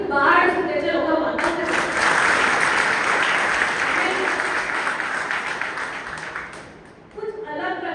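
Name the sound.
audience applause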